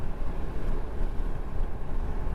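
Crosswind buffeting a moving vehicle on a drive from Livingston, Montana toward Dickinson, North Dakota, a steady, rough low roar that swells and dips, with no talking.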